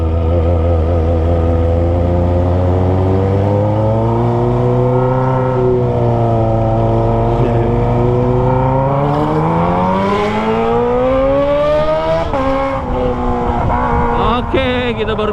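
Kawasaki ZX25R motorcycle with an aftermarket Toce exhaust accelerating on a road after leaving narrow alleys, a loud, close engine note climbing steadily in pitch through the gears with a brief dip and rise near the end.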